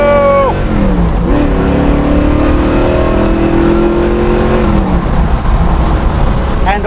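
A 1967 Mustang V8 revs hard and accelerates, its engine note rising and sweeping in long climbing tones. It sounds close and loud and holds steady for several seconds.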